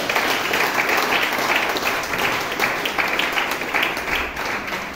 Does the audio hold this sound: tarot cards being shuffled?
no